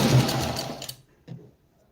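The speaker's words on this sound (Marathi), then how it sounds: "आता गळ्यावरती शिलाई मारून घेऊया।" A sewing machine stitches the neckline of a blouse in a rapid, close whirring run that lasts about a second, stops, then gives a brief second burst before falling quiet.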